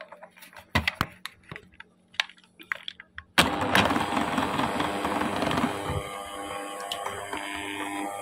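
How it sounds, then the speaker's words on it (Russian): An electric mixer whirs steadily while beating egg whites for a sponge cake, with yolks added one at a time. It starts abruptly after a few quiet kitchen knocks and clicks, then runs loud and continuous, easing slightly partway through. "То есть миксером взбиваем и по одному добавляем желтки."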